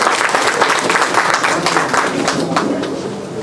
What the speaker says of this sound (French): Applaudissez pour les femmes.